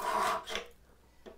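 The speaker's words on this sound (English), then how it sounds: "So we're gonna file this out." Hand file rasping out a wooden mitered bridle joint, two short scraping strokes close by followed by a faint tap.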